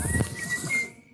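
A single short whistled tone held for under a second, faint and close, used by a man to call a tame sparrow to his raised hands.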